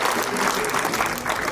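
Steady applause from a crowd at an award ceremony, a dense wash of clapping at constant loudness throughout.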